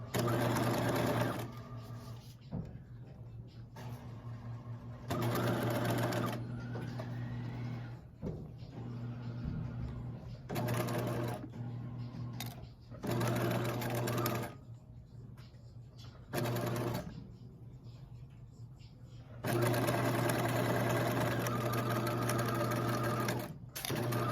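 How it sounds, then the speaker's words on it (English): A sewing machine stitches fabric up to the pins in bursts of loud, steady mechanical whirring, each run lasting a few seconds and separated by short pauses, close to the listener. "I always sew up to my pins so that the fabric won't shift on me"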